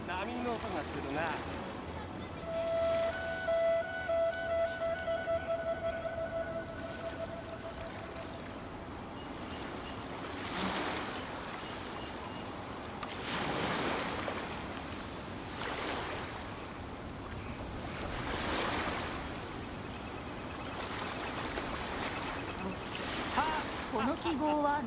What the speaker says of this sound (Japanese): 波の音がするな。